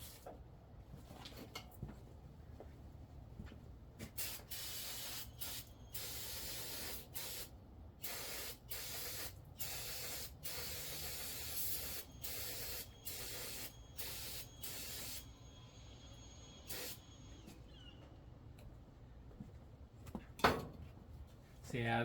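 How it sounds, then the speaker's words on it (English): Brake cleaner sprayed from an aerosol can onto a painted upper control arm in a garage, heard as a series of close, sharp hissing bursts of varying length separated by short pauses. "I'm gonna go spray it with some brake cleaner."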